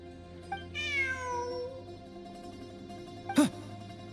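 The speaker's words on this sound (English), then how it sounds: "Look! A cat!" A cat in the Genshin Impact video game lets out a long, descending meow, clear and fairly close over a quiet ambient background. A short, sharp chirping mew follows a couple of seconds later.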